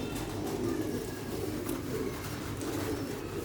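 A pigeon of a bred rooftop variety coos in low, rounded, repeated calls, close and fairly clear against a faint background hum.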